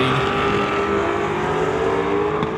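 A Mustang drag racing car roars down the strip in a continuous loud engine blast at a drag racing event, with no talk over it.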